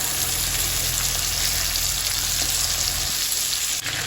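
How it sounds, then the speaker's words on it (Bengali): Ginger paste and spices fry in a hot pan with a loud, close, constant sizzle and hiss, steady and unbroken and heard without talk. "এবারে এক এক করে সব মশলাগুলো অ্যাড করবো আদা বাটা"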